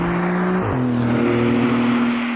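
A Porsche GT3 RS sports car engine drones loudly and steadily, its pitch dipping briefly before settling into a strong, even growl.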